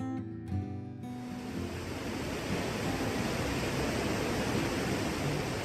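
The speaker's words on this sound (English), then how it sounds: "Niagara Falls is one of the world's largest and most powerful waterfalls" Niagara Falls, the huge waterfall on the Canada–United States border, roars as a dense, steady wash of broadband noise that swells after a brief tonal opening and then holds loud and unbroken.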